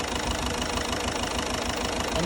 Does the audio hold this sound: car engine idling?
yes